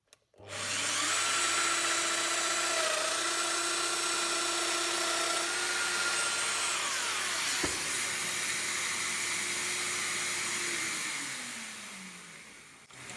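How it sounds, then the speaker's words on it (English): A Festool Domino XL joiner plunges 50mm into wood, a steady, loud motor whine holding for about ten seconds with a brief click midway before winding down, no voices. "So we're just going to cut a 50mm plunge in here to accept this piece here."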